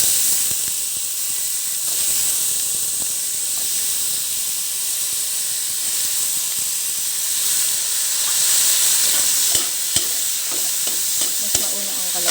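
Squash goes into a hot pan for pakbet, a Filipino vegetable dish, and sizzles in a steady, close hiss that carries on evenly, with a few soft stirring clicks near the end.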